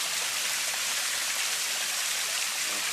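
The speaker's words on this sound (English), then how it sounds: "This is a waterfall with the frogs." Steady rushing water pours continuously from a small decorative waterfall at a winery, a bright even splashing hiss like a small cascade close by, with no voices.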